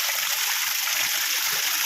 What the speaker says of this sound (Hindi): एकदम ताज़ा और ठंडा पानी यहाँ पर आ रहा है, एकदम फ़िल्टर किया हुआ